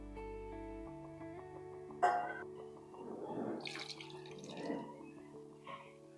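Tamarind water is poured into a pot of curry-leaf pepper kuzhambu in a few splashy bursts, with soft music playing steadily underneath.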